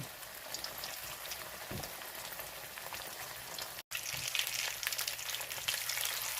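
Oxtails sear in a hot pan with a loud, dense, steady sizzle and crackle, broken by a brief dropout and a few thuds as meat is placed or moved.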